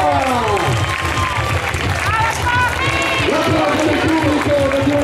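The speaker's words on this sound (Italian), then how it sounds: "L'applauso del pubblico" At an amateur boxing event, the audience claps and cheers after a women's match, loud sustained applause mixed with crowd voices and shouts throughout.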